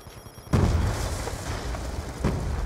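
A grenade explodes in the video game Black Ops 2, a sudden loud boom after a quiet lead-in, followed by a sustained rumbling roar and a second softer burst near the end.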